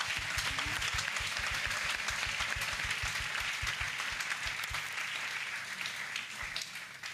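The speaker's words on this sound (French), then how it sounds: "Acclamons pour Jésus. Let's clap for Jesus." An audience at a crusade claps for Jesus in a steady, rhythmic unison beat that later loosens into scattered applause and fades slightly toward the end.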